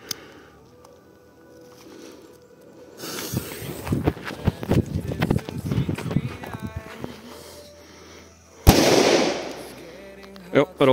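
A Dumbum mini firecracker goes off in water twice: a sharp blast followed by a few seconds of splashing and spray, then a second sudden bang with more churning water. Both are fairly close.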